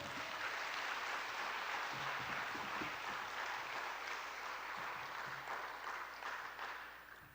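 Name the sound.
congregation applause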